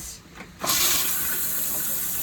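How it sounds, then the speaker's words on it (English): An RV toilet flushed with a foot pedal sends a sudden loud rush of water into the bowl after a brief quiet moment, then a steady hissing flow continues up close. "It flushes here with your foot"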